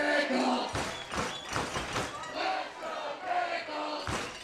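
Baseball stadium crowd worked into a near frenzy, with loud rhythmic chanting and thumping beats from many voices in an open ballpark at night.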